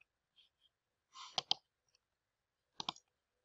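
A computer mouse gives a few sharp, close clicks in a quiet room, first a quick pair and then another pair after a pause.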